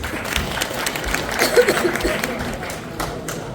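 Audience applause breaks out and carries on with scattered claps and some crowd murmur throughout, at a cultural program at the Swaminarayan Temple in Nakuru, Kenya.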